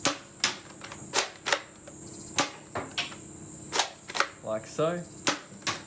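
A 1:1-scale 9mm toy shotgun fires in a series of about a dozen sharp, loud cap-like cracks spaced irregularly, with mechanical clicks of cocking between shots and a brief spoken remark near the end.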